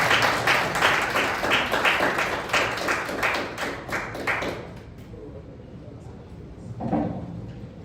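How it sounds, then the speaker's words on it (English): Audience applause after a speech at a talk on Sahel instability, a crowd clapping strongly with a rhythmic pulse for about five seconds before fading out, followed by a brief voice. "Please, another round of applause."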